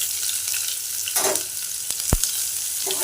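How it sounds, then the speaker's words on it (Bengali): Salted eggplant and chopped onion fry in a pan with a continuous sizzle, broken by a brief rustle and one sharp utensil clink partway through. "একটু লাল লাল করে ভেজে নেব"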